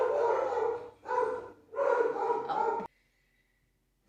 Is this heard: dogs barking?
yes